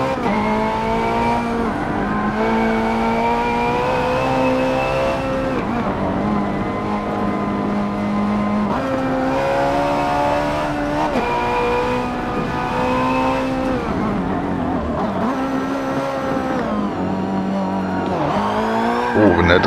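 A Nissan GT-R '95 engine revving hard through gear changes on the Nordschleife in Forza Motorsport 7, loud rising and falling pitch sweeps with tire squeal, continuous for the whole stretch.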